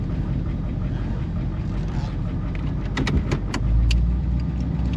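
A Pontiac Grand LeMans engine idles a bit high after years off the road, with timing problems, giving a steady low rumble close up, with a few light rattles and a deeper swell toward the end.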